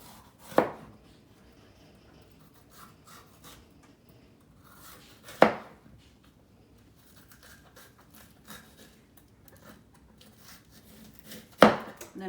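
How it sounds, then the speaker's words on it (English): A knife cuts bell peppers on a board: three sharp, close chops spaced several seconds apart, with quiet handling noise between them. "I like to just slice the top off like so. And then I just kind of go around like this, kind of cut around the middle."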